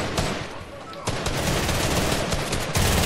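Rapid automatic weapon fire from a Fortnite Battle Royale match, dense bursts of gunshots running almost continuously, loud and close, with a brief lull before the shooting resumes.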